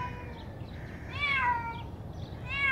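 A frightened cat stranded in a drained swimming pool meows in drawn-out cries, two clear calls over a faint hiss of background noise.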